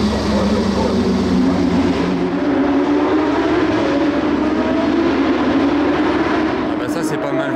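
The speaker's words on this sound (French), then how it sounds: "vous entendez les GT3 encore dans le fond, ils sont en train de tourner" Porsche 992 GT3 race cars lapping the Monaco street circuit during the Grand Prix weekend, a continuous distant engine roar rising and falling in the background under crowd and ambient noise.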